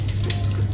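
Half a cup of water poured into chicken cooking in a pan for tacos, a steady continuous splashing gush heard close and alone.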